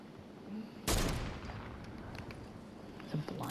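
Fortnite gunfire: a sharp, loud shot cracks out and decays into a reverberant tail, with a second, smaller shot near the end over quiet background game ambience.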